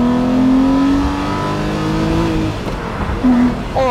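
A Lamborghini Murciélago Roadster with a naturally aspirated 6.2-litre V12 and manual gearbox accelerates hard, its engine note rising steadily through the revs before a brief dip and another climb, loud and close throughout.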